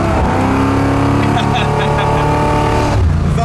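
A 1973 Camaro built for speed, driven hard enough to slide sideways, gives a loud, steady engine drone with strong tonal harmonics that shift in pitch near the end, while people talk over it.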